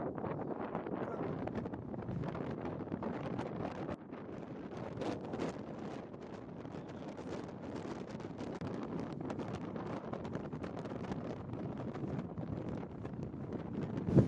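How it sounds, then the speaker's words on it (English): Strong wind buffets the microphone on the Mt. Sherman summit in Colorado, a continuous, gusty roar that rises and falls without pause for the whole stretch, with no voices. "really windy up here"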